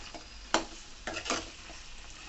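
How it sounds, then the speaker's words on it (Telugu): Boiled peas and potatoes are stirred into a curry in a pan, giving a few soft, wet scraping strokes over a faint sizzle, close and fairly quiet. "వీటిని ఇందులో వేసుకొని కలుపుకోవడమేను"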